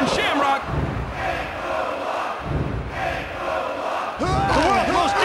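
A video-game wrestling crowd in WWF Attitude on PS1 roars loudly and continuously, with swells of cheering and chanting and bursts of announcer-style shouting over the arena noise.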